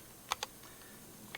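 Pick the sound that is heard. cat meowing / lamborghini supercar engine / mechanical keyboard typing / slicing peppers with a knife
mechanical keyboard typing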